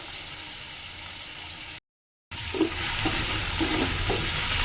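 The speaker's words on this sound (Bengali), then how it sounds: "এই পেঁয়াজটা দিয়ে আর মাছের কাঁচাটা দিয়ে আমি ভালো করে লাল করে ভেজে নেবো" A fish head, from boal fish, and onions sizzle steadily in hot oil with occasional stirring scrapes, broken by a short moment of total silence partway through.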